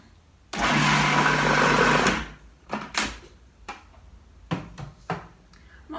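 A food processor whirs loudly for about a second and a half, blending plantain bread batter, then stops, followed by a few scattered clunks and clicks of the bowl and lid.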